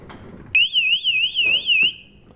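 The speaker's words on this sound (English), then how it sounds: "Once it's armed up, if the door opens up," A Detex door alarm goes off as the door opens, a loud, warbling electronic siren tone that cycles steadily for about a second and a half and then cuts off, with faint handling clicks around it.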